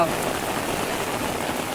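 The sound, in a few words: rain falling in the Konkan fields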